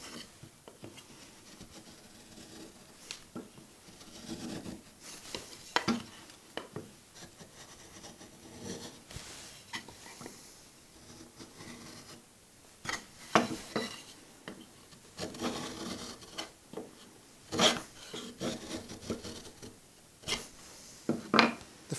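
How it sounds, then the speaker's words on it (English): A marking gauge scribes a line about 3 mm in from the edge of a wooden carving blank, with quiet intermittent scratching and rubbing strokes and a few sharper knocks as the tool travels around the edge. "I'm using the marking gauge to run a line about 1/8 of an inch, 3mm, all the way around the edge."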